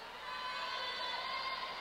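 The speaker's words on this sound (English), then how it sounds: "Fans trying to get their team aroused, yelling at them." Fans at a women's college volleyball match in 1992 yell to cheer on their team, a steady crowd roar filling the gym with a sustained high-pitched shout running through it, fairly distant and unbroken.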